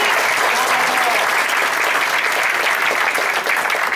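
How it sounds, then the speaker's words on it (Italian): Theatre audience at the Teatro delle Muse breaking into dense, loud, continuous applause that fills the whole stretch without letting up. "grazie mille dei complimenti e degli applausi"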